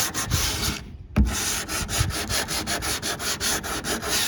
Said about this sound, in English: my sander's decided it wants to break on me, so I'm going to have to finish it with a block